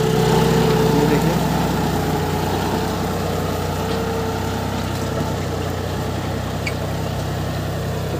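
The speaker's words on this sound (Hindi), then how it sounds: "जॉन डियर 5105 40 HP की ताकत देख सकते हो आप। 5 इंची की गहराई पे आराम से अकाई कर रहा है, देख सकते हो।" A John Deere 5105 40 hp tractor tilling with a cultivator at 5-inch depth produces a loud, steady engine drone with a low rumble, continuous throughout and with no talking.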